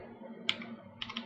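Keystrokes on a computer keyboard while entering C code, a short cluster of crisp clicks near the middle followed by a quicker burst of several taps at the end, close and fairly quiet.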